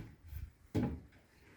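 A wooden wardrobe in a bedroom of a mountain house is pulled open, a soft rub followed by one sharp, close wooden knock and a brief scrape as the door swings.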